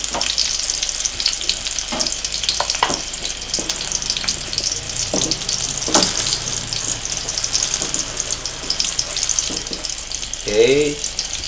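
Chili peppers frying in hot oil in a pan, a continuous crackling sizzle with occasional scraping stirs and a brief rising squeal near the end.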